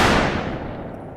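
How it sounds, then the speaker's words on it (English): Gunshot sound effect added over a song's ending in audio editing software, a single loud blast with a long decaying rumbling tail, alone without talk. "you just can cover that bad boy up with the gunshot"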